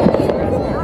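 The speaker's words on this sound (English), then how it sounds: "Yes, the fireworks are all right." Fireworks on the 4th of July finale: a dense, loud, rumbling barrage of crackling bursts, with people talking over it.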